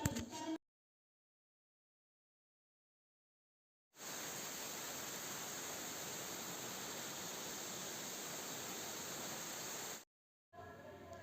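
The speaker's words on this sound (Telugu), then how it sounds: "ఇదే పైనుంచి పడుతున్న తలకోన అత్యంత సుందరమైన వాటర్ ఫాల్స్" Talakona waterfall dropping from a height makes a steady, even rushing roar that is cut off abruptly by stretches of silence and then returns.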